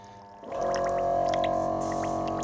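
Air bubbling steadily through paint inside an airbrush jar as the paint is mixed, a sustained close gurgling hiss that starts abruptly and continues evenly for the rest of the moment.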